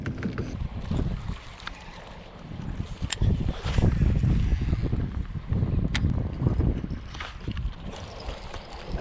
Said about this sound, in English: So the wind's starting to pick up a little bit.